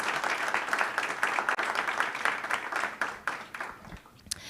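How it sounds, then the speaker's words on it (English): Applause from an audience for the speakers at a panel on imperialism, Ethiopia and the Horn of Africa, a steady wash of clapping that tapers off near the end. "let's have another just round of applause for all of our speakers today."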